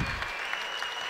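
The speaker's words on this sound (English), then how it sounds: "The crowd loves it, giving them an ovation, if you will, as they leave for halftime intermission." Crowd applauding a basketball team as it heads off for halftime at a Pontiac 66ers vs Lima Express game: steady, dense clapping throughout, loud and close, with no break.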